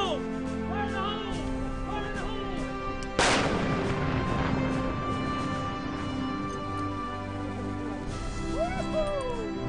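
A single heavy explosive detonation, set off during military IED clearance, booms sharply and loudly, then a long rumbling decay follows. Faint voices and other outdoor sounds can be heard before and after the blast.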